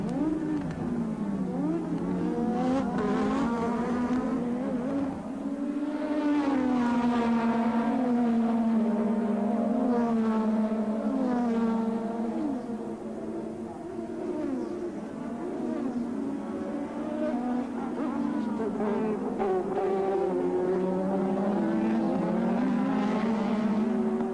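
Formula One cars racing at the Japanese Grand Prix at Suzuka, among them Honda-powered cars, scream continuously at high revs, engine pitch rising and falling through gear changes as several cars pass in a loud, unbroken stream.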